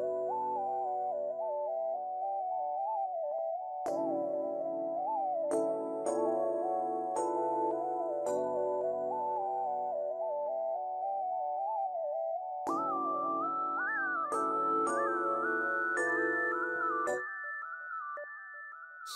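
Piano lead melody with delay in a hip-hop beat, sustained bright tones with echoing repeats over held chords, shifting higher near the end, loud and alone.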